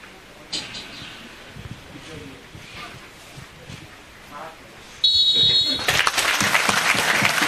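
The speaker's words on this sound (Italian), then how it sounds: "Terminato il minuto di raccoglimento, ci sono gli applausi del pubblico" Spectators at a football match between Lanusei and Cassino break into loud, sustained applause after a minute's silence, rising abruptly from a quiet, murmuring stadium and continuing over a commentator's voice.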